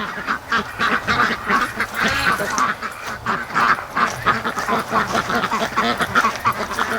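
A large flock of about 170 ducks quacks continuously in a yard, a dense, overlapping chorus of honking calls close by, with a person talking intermittently over it.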